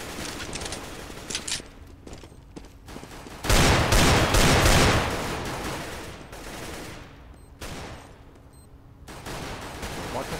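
Gunfire in a Counter-Strike: Global Offensive match, with scattered shots, a loud sustained burst of automatic fire in the middle, then sparser shots trailing off, all in a busy game mix.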